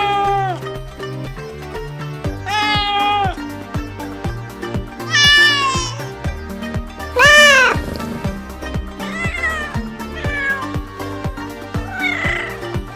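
Domestic cat meowing repeatedly, a series of clear, close, drawn-out meows of varying pitch, some rising and plaintive, spaced a second or two apart.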